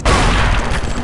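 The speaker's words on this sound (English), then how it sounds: "Chaser. Winchester double barrel automatic. It's a nice shotgun." A Winchester double-barrel automatic shotgun fires in the game Chaser, one loud, booming blast with a short rumbling tail.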